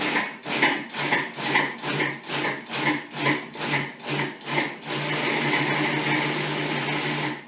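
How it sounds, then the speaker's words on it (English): A food processor works through apricots for a hamantaschen filling, first in a run of about ten short, loud, evenly spaced pulses, then switching to a steady continuous whir as it purees, with no talking. "So first I'll do the apricots, like this, and I'm going to pulse and then puree."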